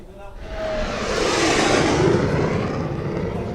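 A military jet such as a Sukhoi, Mirage or Tejas touches down on the Agra–Lucknow Expressway during an air show, a broad steady engine roar that swells and holds loud throughout, with faint voices mixed underneath.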